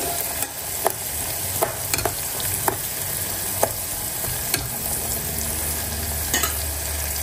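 Lemon slices are being stirred in a hot pan while preparing a fenugreek and tea-leaf hair remedy. A steady hiss runs throughout, and occasional sharp utensil taps and scrapes stand out up close.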